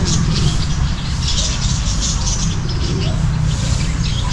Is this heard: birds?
yes